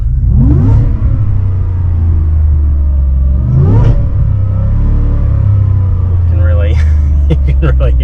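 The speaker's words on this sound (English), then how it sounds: "give you a little rev" A 2022 Ford F-150 XLT Custom truck engine revving close by, a deep idling rumble rising in two distinct revs and then a third quick burst, with a person talking over it.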